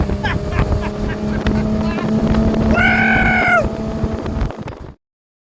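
A vintage 1970s big-block jet boat engine roars on open water, loud and close with wind buffeting the mic, a rising whine partway through, before cutting to silence.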